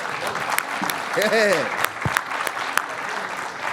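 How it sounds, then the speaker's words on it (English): An audience at a pitch competition applauds the judges, a sustained patter of clapping with a voice calling out briefly partway through and sharp individual claps standing out. "give a round of applause to the judges"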